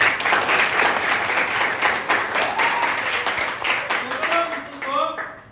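A classroom group claps in a rhythmic clapping chant, quick, fairly loud hand claps in a patterned sequence, with a few voices calling out near the end.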